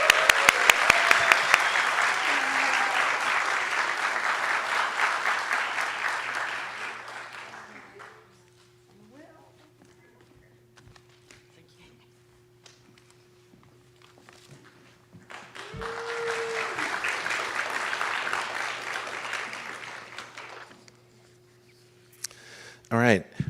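An audience applauds award recipients at a senior awards ceremony at Cal Maritime: a long burst of clapping, a quiet stretch with a few footsteps, then a second round of applause that fades out.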